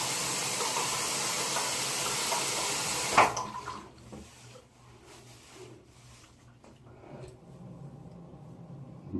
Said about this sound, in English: Let me wash it off.